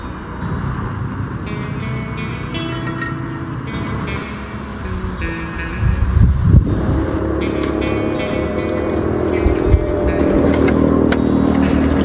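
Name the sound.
vehicle passing on a road below a mountain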